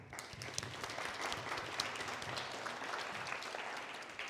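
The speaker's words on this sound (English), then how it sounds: "I do want to give a round of applause for Abraham, please." An audience at a small business pitch meeting claps steadily for several seconds, a dense even patter of hands in a room with no voices over it.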